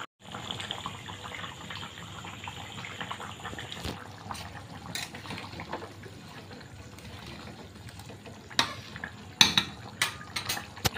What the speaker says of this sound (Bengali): আমি এখন সয়াবিনটা নামিয়ে নেই